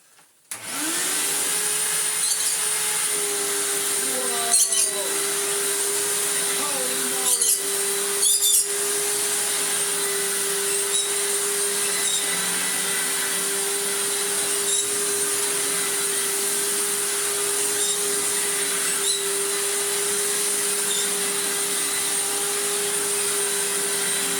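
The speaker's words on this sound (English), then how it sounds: "that's definitely a clean fan upright. That's a nice bit of suction." Hoover Windtunnel clean-fan upright vacuum cleaner starting and then running steadily with a loud whooshing roar and a constant motor whine, with a few brief knocks and rattles early on and no talking.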